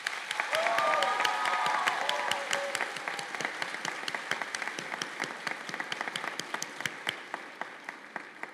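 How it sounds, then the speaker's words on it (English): A crowd applauds nursing graduates at a community college pinning and candle lighting ceremony, with dense, sustained clapping that slowly thins toward the end and a few faint cheers early on. "Let's give them a big applause."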